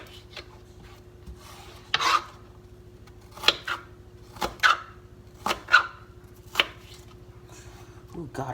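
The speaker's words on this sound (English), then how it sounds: "I hate chopping onions because every time I do, I cry" Several separate knife strikes chopping onions against a board, spaced unevenly, with soft scraping between them over a low background hum.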